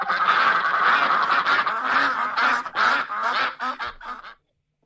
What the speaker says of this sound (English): we've got what's quacking here